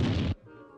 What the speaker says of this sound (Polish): Kiedy tak biegał, opodal padł strzał.